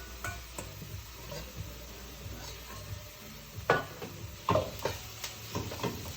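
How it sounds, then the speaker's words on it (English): Italian sausage sizzles and crackles in a hot pan, a steady fry with a few sharp clanks and stirring knocks of a utensil against the pan. No voices are heard. "I'm going to add the Italian sausage now."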